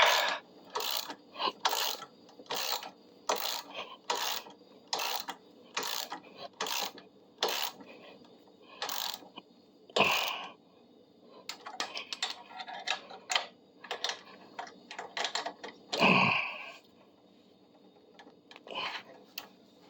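A heavy clamp being tightened to bend metal straight gives a steady series of sharp ratcheting clicks, evenly spaced and close, turning into a more irregular cluster of clicks and a louder clank in the second half.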